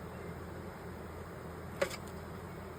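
Bees hum faintly and steadily around a hive as a new top box with new Amish frames is set in place, with one small knock near the end.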